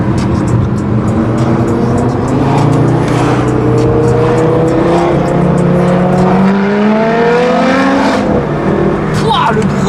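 An Audi RS3 sedan accelerates hard, its engine rising in pitch through repeated sweeps, heard loud from nearby with road and traffic noise, while people talk over it.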